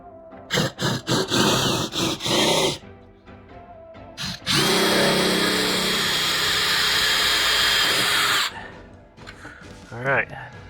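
A power drill whirs in several short bursts, then runs in one loud sustained stretch of about four seconds while boring a hole in a plastic tub, close up, with a brief voice afterward.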